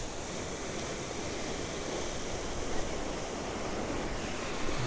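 Wind blowing steadily during a night drive in Toronto, a faint, even broadband rush like distant surf, with no voices.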